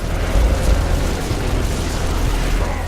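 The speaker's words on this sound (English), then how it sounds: "with 50 caliber, shooting on up" Heavy .50 caliber gun fire aimed at the Flood in the video game Halo 3, a loud, steady barrage of deep booming bursts that blend into continuous rumbling for the whole stretch.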